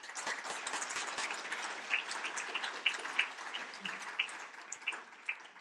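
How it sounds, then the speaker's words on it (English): A quiet, distant audience applauds Dr. Rajiv Shah at a podium event, a thin, steady patter of clapping with a few sharper individual claps standing out, sustained for several seconds. "Let me suggest that we do that with a little applause."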